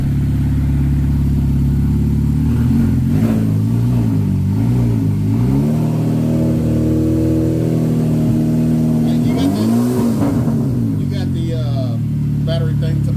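A Chevy Cobalt SS with a turbocharged Ecotec engine revs up and down in repeated throttle blips over a steady idle. Turbo whoosh and spool come through the exhaust up close, with a longer rev near the end.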